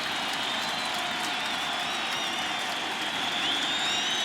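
Dense, steady roar of a baseball stadium crowd cheering throughout a 2005 World Series Game 3, White Sox at Astros, loud and sustained with whistles rising above the din.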